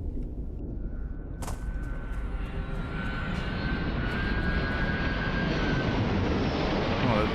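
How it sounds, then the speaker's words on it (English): A spaceship touching down on the moon in a video game, a steady, loud engine roar that swells slowly and fills the whole clip, with a brief sharp burst early on. "there's a ship landing"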